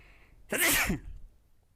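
A single loud, close sneeze bursts out sharply in a quiet room during a lesson, followed by silence.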